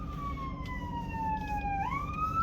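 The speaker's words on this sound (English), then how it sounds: "I'm gonna let that ambulance pass" An ambulance siren wails nearby, loud and alone, with a long falling tone that swoops upward near the end as the vehicle passes.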